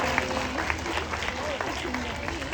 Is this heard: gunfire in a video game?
no